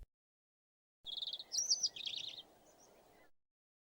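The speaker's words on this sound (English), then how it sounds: "Suddenly, he heard some cheerful chirping." A small bird gives a quick run of bright, high chirps, clear and close against an otherwise quiet background, lasting about two seconds.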